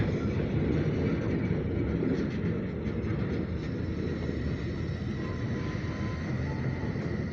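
An OC&T Alco freight locomotive hauling grain hopper cars gives a steady, loud rumble with continuous rolling noise throughout, and no voices.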